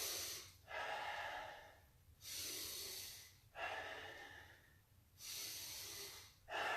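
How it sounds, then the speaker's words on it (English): Heavy breathing during a bodyweight lunge workout, with four long, loud, airy breaths in a steady rhythm and short pauses between them, close to the microphone and with no talking. "As I drop down, I'm going to exhale. As I come up, I'm going to inhale."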